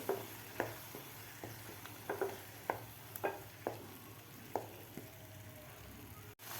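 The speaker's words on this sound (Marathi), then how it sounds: "आता टोमॅटोची प्युरी घातल्यानंतर सुद्धा आपल्याला तीन ते चार मिनिट परतून घ्यायचे आहे" Tomato puree being sautéed with masala in a pan for palak chana masala, a quiet bed of frying hiss broken by a dozen or so sharp spoon scrapes and stirring knocks at irregular intervals.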